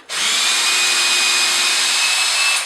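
A Hitachi 18V combi drill drives a screw into wood, a steady high whine running loud and close for a couple of seconds before cutting off.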